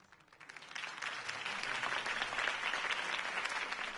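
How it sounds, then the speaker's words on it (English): A crowd in a Batman video game claps and cheers steadily, swelling in the first second and then holding as a dense, sustained wash of applause with no talking. "could have heard that applause"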